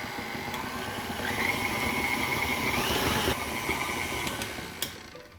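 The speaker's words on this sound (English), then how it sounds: "you can add some more taro while the mixer is running" A stand mixer runs steadily while beating taro into Hawaiian poi, a constant motor whine that rises in pitch as the speed is turned up, with faint clinks near the end.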